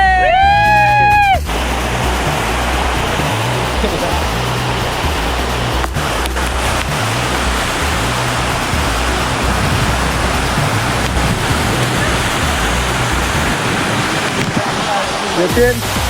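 Ghogata waterfall roars in a loud, unbroken wash of rushing water, with brief high whistling tones at the very start.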